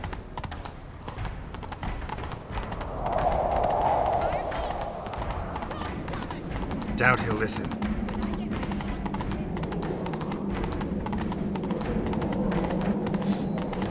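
Rapid clip-clop of a horse's hooves galloping steadily throughout in The Witcher 3: Wild Hunt, with a brief exchange of speech and game music and effects layered over it.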